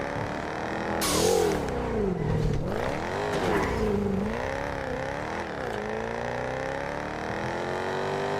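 A fast car engine in a video game revs and accelerates, its pitch sweeping up and down through gear shifts, steady and loud throughout with no talking.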